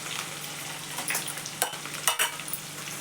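White sesame seeds and green chillies crackle in hot oil after cumin, a steady frying hiss broken by a few sharp spattering bursts and stirring scrapes.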